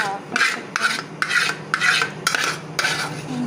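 A metal spoon scrapes burnt residue from inside a cooking pot in about six firm, rasping strokes with short pauses between them, close and alone with no talk.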